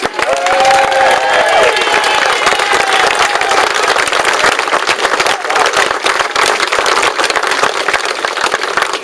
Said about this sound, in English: I'd like to give a round of applause to Tony Booty for organising this rally toda